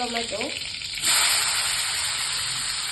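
Curry leaves go into hot oil for a mung bean gravy, and a sudden loud sizzle bursts up after a brief moment of talk, then keeps hissing steadily and close.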